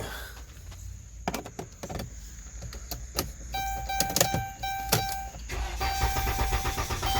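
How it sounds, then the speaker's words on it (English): A car with a replaced starter and a no-start fault being cranked without firing, with clicks and key rattles followed by a whirring crank that repeats in short bursts, moderately loud and close. "So let me crank this baby up and let's go see what we got."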